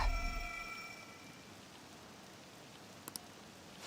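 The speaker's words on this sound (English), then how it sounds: "This rain ain't too bad." Rain in the video game Persona 5 Royal falls as a soft, steady patter of drops, faint and even throughout, with a fading musical tone at the start and a couple of small clicks.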